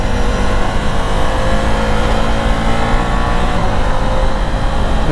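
Ducati Multistrada V4 Pikes Peak motorcycle on a night ride, its V4 engine roaring at high revs, a loud, continuous, close-up drone with dense low rumble and no talk.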